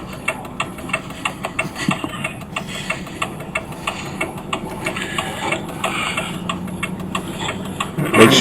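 A tractor engine idles and chugs steadily on a road in Bucks County, a close, even mechanical rumble with a regular ticking pulse and a louder surge at the very end.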